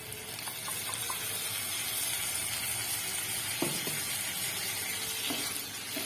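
Ground spice paste fries with potatoes and turmeric in hot oil, giving a loud, continuous close sizzle with occasional stirring scrapes.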